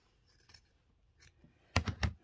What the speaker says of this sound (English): So I'm going to cut that where it's